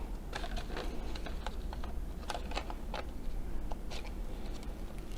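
Card being cut by hand with a craft knife or scissors into a wedge-shaped tab during box making, giving a quiet series of short, irregular scratchy snips and taps with a steady background hum.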